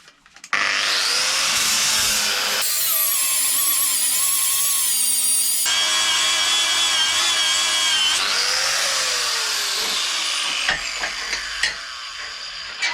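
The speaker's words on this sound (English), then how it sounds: "there is a bit of a high spot here, which I still want to grind away" A grinder works down a high spot on a welded metal part of a hydraulic press, giving a loud, continuous close whine that rises and falls in pitch as the load changes.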